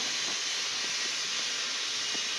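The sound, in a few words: dry red chillies sizzling as they are added to the pan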